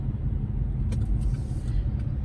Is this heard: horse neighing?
no